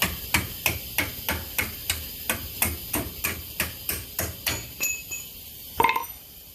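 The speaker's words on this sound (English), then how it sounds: "Let's have a little metal rod. I have to punch the bolts through." Steady metallic hammer strikes, about fifteen evenly spaced ringing taps on a metal punch driving bolts out of a Polaris Ranger rear axle, close by, ending with one heavier clank.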